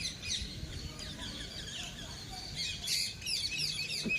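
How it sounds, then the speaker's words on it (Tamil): Birds chirp and tweet repeatedly in short bright calls, several overlapping at moderate distance, with a soft ambient background and no talking, at Gangaikondacholapuram, Ariyalur. "இப்போ தான் அந்த பேர்ட்ஸ் கத்துற சவுண்டே கேட்குது"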